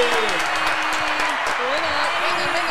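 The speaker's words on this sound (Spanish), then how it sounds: "le damos un fuerte aplauso a la primera pareja que viene de oyentes, Imanol y Alejo" Studio audience on a Spanish-language couples game show claps through the whole stretch, a sustained crowd applause with a voice talking over it and faint tonal music underneath.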